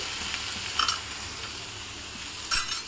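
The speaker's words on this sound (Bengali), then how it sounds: "লো ফ্লেমেই ভাজছি, কারণ এটা তো হয়ে গেছে, একটু ম্যাশড হয়ে গেছে, তা পুড়ে যাওয়ার সম্ভাবনা থাকে।" Mashed fish frying gently in a pan on a low flame, a soft continuous sizzle with two brief louder bursts of spatula scraping against the pan.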